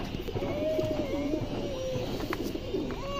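A large silver-line male pigeon coos softly at close range, a faint rolling murmur over a steady background hiss, with no voices.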